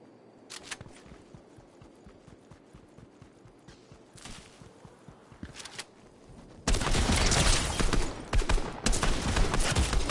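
Gunfire in the Fortnite video game: scattered rapid shots and clicks at first, then a loud, dense burst of continuous automatic fire that dominates the second half.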